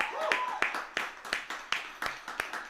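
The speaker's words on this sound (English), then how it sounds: "How about another round of applause for our performers tonight?" A small audience claps for woodwind and brass performers at a chamber music concert. The applause is sparse and even, a regular pulse of a few clean hand claps about three times a second.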